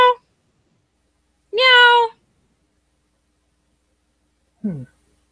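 A person imitates a cat with three drawn-out vocal meows, each a separate burst with pauses between, the last one short and falling, said to a cat perched on top of a dumpster.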